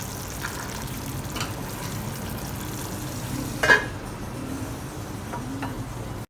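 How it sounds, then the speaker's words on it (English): A spoon gives a quick stir through vegan bolognese sauce with soya chunks simmering in a pan, a soft bubbling sizzle under light scraping, with one brief sharper clink midway. "Quick stir."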